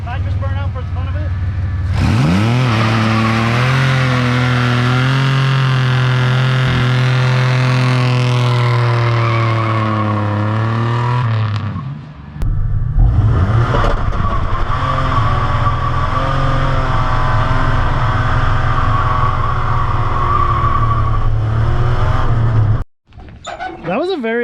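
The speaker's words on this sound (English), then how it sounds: "Nitrous burnout for the fun of it." A nitrous-fed Chevrolet Camaro rally car performs a burnout, engine roaring at high revs with tires squealing, a short pause, then another loud sustained roar before cutting off abruptly.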